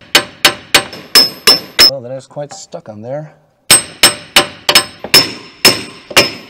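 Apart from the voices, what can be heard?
hammering a rusted wheel bearing on a MINI Cooper R50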